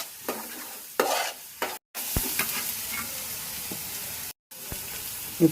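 Chili powder being stirred into a Kerala-style chicken curry in a pan: close scraping stir strokes over a soft sizzle, coming in bursts separated by a couple of brief silent gaps.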